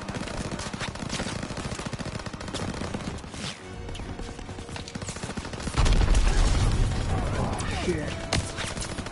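Machine gun fire from a hayloft in a World War II-style PS4 video game, sustained rapid rattling bursts mixed with battlefield noise, loud and dense, swelling heavier near the end, with soldiers' voices shouting underneath.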